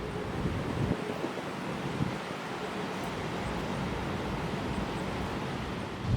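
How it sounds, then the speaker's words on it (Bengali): Strong wind buffets the microphone at Lal Kakra Beach, a dense, steady low roar with no breaks that lasts throughout, loud and close. "দারুণ হাওয়া দিচ্ছে আজ,"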